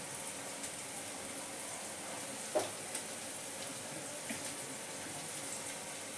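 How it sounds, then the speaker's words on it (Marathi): Tempering spices (phodni) sizzle in hot oil as a faint, even hiss, with one brief crackle and a few soft clinks partway through. "तर मी फोडणी टाकते"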